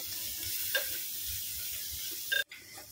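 Soft, steady sizzling of ginger, garlic and spices frying on low heat in a pan, with occasional scraping stirs and a brief clatter near the end, close and quiet.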